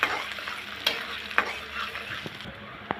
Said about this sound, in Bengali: পেঁয়াজটা আমি নেড়ে চেড়ে ভালো করে ভেজে নিব।